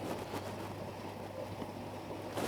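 A water pump running, giving a steady low mechanical hum with a broad hiss of moving water, constant and moderately close throughout, with no speech.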